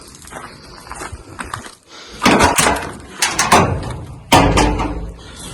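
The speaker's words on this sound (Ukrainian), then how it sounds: "зараз прочиню двері" An aviary door housing partridges and pheasants is opened up close, giving a few loud knocks and scraping rattles in quick succession over a quiet background.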